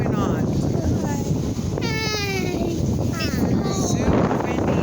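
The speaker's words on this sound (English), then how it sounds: "There is some wind going on." Strong, gusty wind blows outdoors in North Las Vegas, a constant loud broadband roar buffeting the microphone throughout while someone talks over it.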